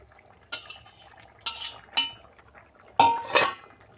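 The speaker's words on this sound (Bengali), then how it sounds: "ঢাকনা দিয়ে দিই" A lid clatters onto a cooking pot of thin singhi fish curry with vegetables: five sharp metallic clinks and knocks with brief ringing tones, spaced irregularly over a few seconds against a quiet kitchen background.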